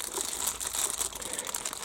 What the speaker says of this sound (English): And I've never opened this bag before, I'm just opening it now.